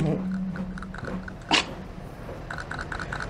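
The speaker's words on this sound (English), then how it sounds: "Dog's trying to eat everything." A cartoon dog in a Nintendogs recap bites and chews at things, with short crunchy chomps and one sharp bite standing out, heard under music and background voices.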